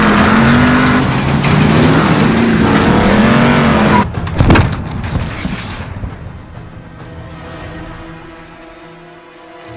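A suicide truck on a highway in Call of Duty Modern Warfare roars loudly with engine drone and tire skidding, followed by a sharp crash-like burst and a fading rumble as the vehicle noise dies away.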